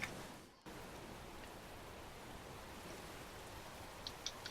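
Soft, continuous rain hiss in EverQuest II at low volume, even and steady, with a brief dip near the start and a few faint drip taps.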